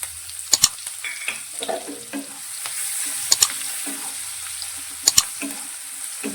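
Finely chopped onion goes into hot oil with hing for bajra khichdi, frying with a soft sizzle while a utensil stirs it in, scraping against the pan in several sharp bursts.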